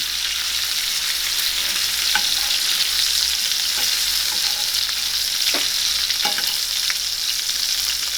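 A New York strip steak sizzles steadily in a hot pan with herbs and shallots, a loud continuous frying hiss broken by a few soft clinks and stirs, with no talking.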